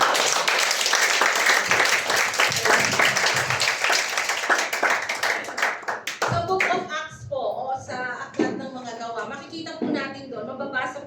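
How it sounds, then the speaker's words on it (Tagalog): A Sunday church congregation gives a loud round of applause for about six seconds, then the clapping breaks off and a voice speaks over a few scattered claps. "Isang malakas na palakpak para sa"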